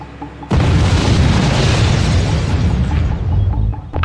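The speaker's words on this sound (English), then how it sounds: "Sir, I heard an explosion!" A sudden loud boom bursts out after a short pause, followed by a long rumbling roar that slowly fades over a few seconds, from an explosion in the video game Act of War: Direct Action.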